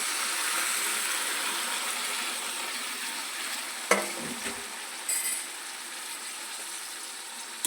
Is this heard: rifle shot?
no